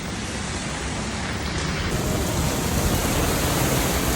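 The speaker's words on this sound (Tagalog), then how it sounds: "Yung lamig, sobrang lakas ng ulan." Heavy rain pours in a dense, steady hiss, loud and constant throughout, with no voices.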